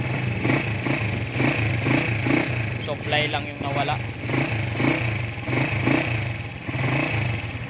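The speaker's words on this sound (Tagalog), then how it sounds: "Ayan, umaandar na yung motor." A motorcycle engine idles with a steady pulsing chug, close and fairly loud, while someone talks briefly over it.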